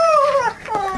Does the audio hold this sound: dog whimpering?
yes